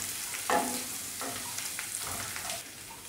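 Onion, ginger, garlic and chopped green chili frying in a pan, a soft continuous sizzle with spoon scrapes and stirring strokes at irregular intervals, close and fairly quiet.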